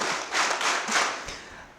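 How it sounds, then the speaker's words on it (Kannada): A college lecture audience claps for a teacher in a dense, steady burst that carries on for under two seconds and fades slightly toward the end. "ಇವರು ಮೇಷ್ಟ್ರಿಗೂ ಒಂದು ಚಪ್ಪಾಳೆ."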